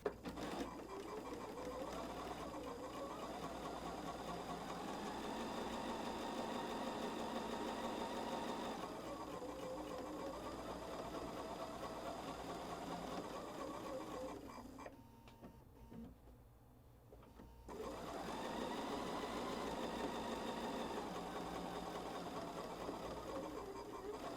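Sewing machine stitching a row of an ombre kaleidoscope quilt, a steady loud mechanical whir running throughout with a brief dip and pause near the middle before resuming.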